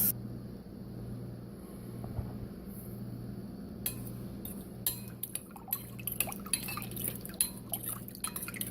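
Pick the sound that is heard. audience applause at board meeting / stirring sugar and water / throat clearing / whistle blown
stirring sugar and water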